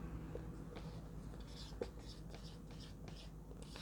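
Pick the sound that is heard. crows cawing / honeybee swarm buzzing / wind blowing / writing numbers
writing numbers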